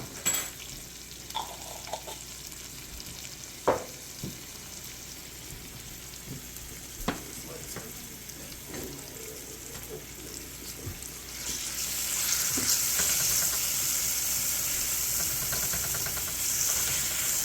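Fermented garlic mustard flower heads sizzle in a hot pan, a steady frying hiss marked by a few sharp utensil clinks, swelling into a louder, denser sizzle for the last several seconds, with no talking.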